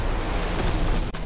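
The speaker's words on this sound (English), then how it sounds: "Incoming enemy artillery." Enemy artillery explosions in Call of Duty: WWII, a dense, loud, rumbling blast filling the whole short moment, with a sharp cut near the end.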